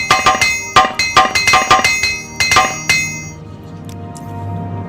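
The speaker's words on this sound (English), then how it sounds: "One use left of that apprentice armorer's hammer" An apprentice armorer's hammer strikes metal during repairs in Morrowind, giving about a dozen loud, ringing clinks in quick, uneven bursts before falling quiet.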